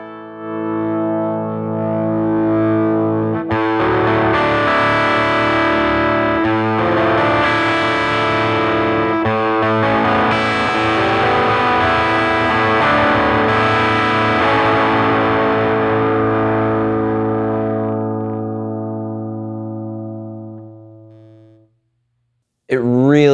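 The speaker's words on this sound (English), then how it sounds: "For this tone, I'm on a Les Paul for that classic rock sound." Les Paul electric guitar through a Supro Delta King 8 amp on overdrive, loud close sustained distorted chords ringing out for about twenty seconds and slowly decaying, then a brief cut and a short burst at the end.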